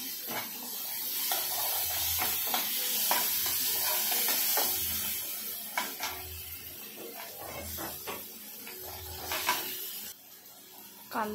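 Onion and tomato frying together in a pan, stirred repeatedly while cooking down: a steady close sizzle with regular scraping spoon strokes about every second, fading toward the end.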